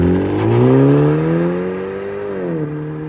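A 2020 Genesis G70 2.0L turbo with a muffler delete revs up and holds high, its raspy, loud exhaust note rising, then easing back down near the end, close and alone.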